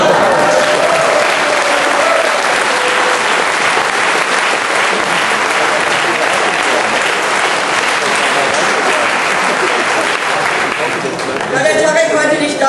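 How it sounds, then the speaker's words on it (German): Loud, sustained applause from delegates at a Green party candidate-list meeting, dense clapping filling the hall throughout with crowd murmur, ending briefly in a short lull. "Beifall erhält."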